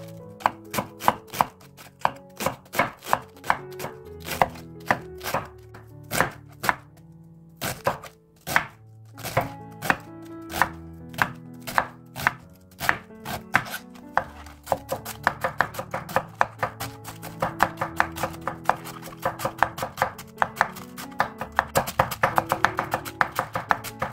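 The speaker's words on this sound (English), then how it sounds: "But I'll start by cutting my cabbage." A knife chops cabbage thinly on a cutting board in rapid, steady rhythmic strokes, close and crisp, picking up speed toward the end with no talking.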